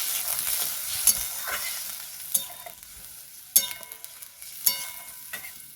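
A spoon stirs village-style vegetarian spinach dal with added water in a pot, giving a soft, steady swish and scrape punctuated by a few sharper clacks against the pot, close and without any voices.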